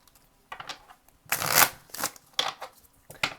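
Tarot cards are riffled and shuffled in several quick, close bursts, with brief pauses between the crisp flutters.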